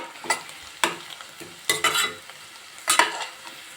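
Gram flour batter for pithla poured into a sizzling tempering of onion, garlic, green chilli, cumin and mustard seeds, then stirred, giving several short scraping stir strokes over a soft, steady sizzle, close and fairly quiet with no talk.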